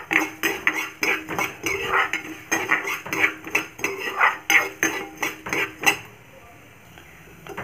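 Coriander and fenugreek seeds roasting in a pan, stirred so they rattle and scrape against the metal in quick, uneven bursts, close and fairly loud, then settling into near quiet at the end.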